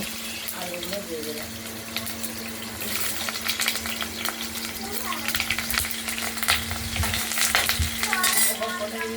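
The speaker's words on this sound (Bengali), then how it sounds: "শুকনো লঙ্কা, তেজপাতা, জিরে, এটা ফোড়নটা হালকা ভেজে নিয়ে আলুগুলো ভেজে নেব।" Potatoes sizzle in hot oil with a tempering of dried red chilli, bay leaf and cumin, a continuous crackling fry with stirring scrapes that grows louder toward the end, with some talk faintly underneath.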